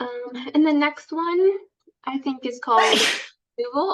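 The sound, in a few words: sneeze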